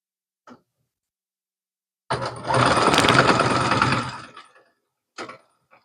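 A sewing machine stitches a cable knit sweater, running in one close burst of about two seconds between short quiet gaps and a couple of faint clicks.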